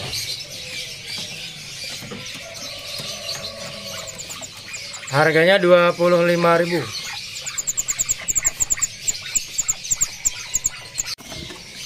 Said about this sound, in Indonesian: Ready hari ini burung ciblek sawah ya.